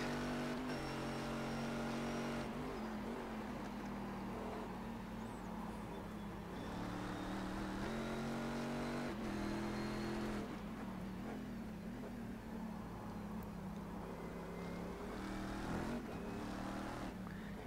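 Race cars pushed to the limit in the iRacing game: a steady, moderately quiet engine whine with shifting pitch as revs climb and fall, several cars blending in a continuous simulated roar.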